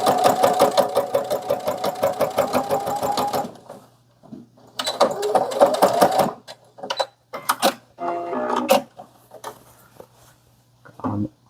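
A sewing machine stitches a water bottle pouch with a small 0.2 cm seam, running in fast, loud bursts of whirring stitches broken by short pauses and a few quiet clicks.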